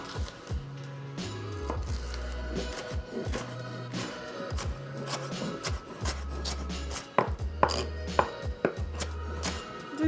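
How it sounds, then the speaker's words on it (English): A knife chops a pepper into small pieces on a cutting board, a quick run of sharp knocks in uneven bursts with short pauses, close and clear, with no talking. "We're gonna start by chopping the pepper into small pieces."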